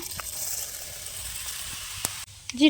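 Cumin seeds dropped into a generous amount of hot oil, left from frying coconut, give a steady soft hiss close by, with a sharp click and brief clatter near the end.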